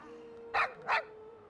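Two quick dog barks from a puppy in World of Warcraft, sharp and close, spaced about a third of a second apart over a faint steady hum.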